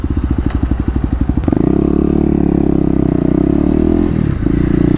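Kawasaki KLX250 dirt bike engine idling with a rapid pulsing putter, then revving up sharply into a loud sustained drone that dips briefly near the end, close and alone.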